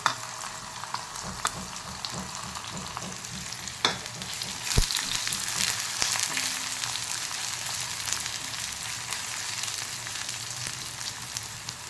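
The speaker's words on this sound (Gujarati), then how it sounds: "આ ડુંગળી એડ કરી દઈશું આપણે, જે આવી રીતે પતલી પતલી સ્લાઈસ કરી હતી" Thinly sliced onions fry in a hot pan with a steady, close sizzle that runs the whole way through, with a few sharp stirring clinks and scrapes and no talking.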